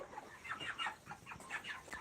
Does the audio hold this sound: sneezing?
no